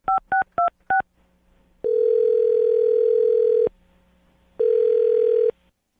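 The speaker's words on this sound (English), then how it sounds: "I'm going to dial his phone number right now." Telephone keypad tones, four quick beeps, followed by two long ringback tones on the line with a pause between, clear and close with no voices.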